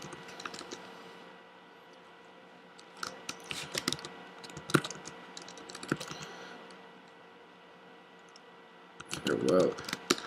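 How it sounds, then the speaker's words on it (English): Typing on a computer keyboard in scattered bursts of light clicks, close and fairly quiet over a low background hum, with a short louder rustle near the end. "just gotta type something here"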